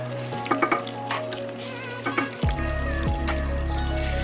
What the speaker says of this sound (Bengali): প্রথমে পেঁয়াজটা একটু ভালো করে ভেজে নিতে হবে।